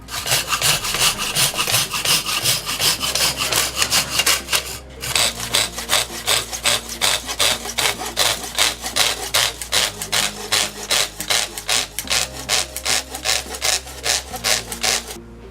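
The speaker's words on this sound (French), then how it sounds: "Ensuite, il suffit de commencer la coupe." A hand saw cuts a narrow wooden batten clamped in a saw guide, its steady back-and-forth strokes rasping loud and close in an even rhythm, with one short pause before sawing resumes.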